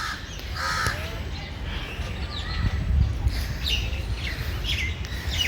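Crows caw and sparrows chirp around the grounds of Birla Mandir, a Delhi temple, with calls scattered over a steady outdoor hush and no talking.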